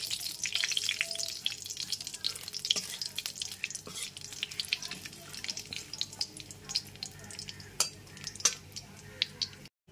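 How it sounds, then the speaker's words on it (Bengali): Bay leaf and two dry red chillies tempering in hot oil over a very low gas flame, giving a steady soft sizzle with scattered utensil clinks and light scraping throughout, fairly close and without talk. "এবার গ্যাসের ফ্লেমটা একদম লোতে রেখে ফোড়নটা হালকা করে ভেজে নেব"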